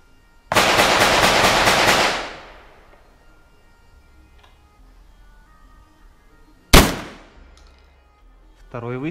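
Karat 12/70 slug fired from an Ata Arms Neo 12 shotgun outdoors. A rolling burst of loud reports comes first, then a quiet gap, then a single sharp, close blast that decays quickly.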